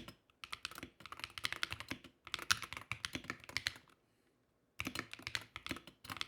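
Wooting 60 HE keyboard with Magnetic Jade switches being typed on in quick, dense bursts of crisp, clacky keystrokes, pausing briefly before a final flurry of typing.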